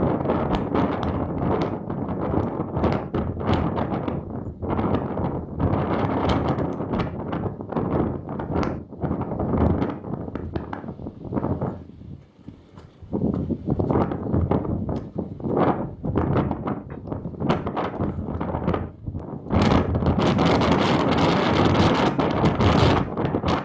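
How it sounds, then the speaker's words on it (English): Strong wind buffets a microphone at the seashore along the Israel Trail, a loud continuous roaring rush with gusty swells and a brief lull midway before it surges back harder. "It's windy."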